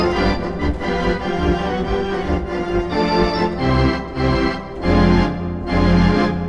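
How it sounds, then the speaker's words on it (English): An organ plays a run of sustained chords that climb step by step up a scale, each chord ringing for about half a second or more. The playing is alone, with no voices. "you keep that shape and you go up a scale playing these chords."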